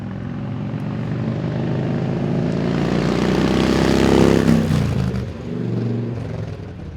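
A 1993 Harley-Davidson FXR motorcycle riding up, its engine rumble growing louder as it approaches, peaking close by, then dropping to a lower idle-like drone.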